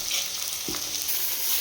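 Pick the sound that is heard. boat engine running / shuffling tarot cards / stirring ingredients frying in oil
stirring ingredients frying in oil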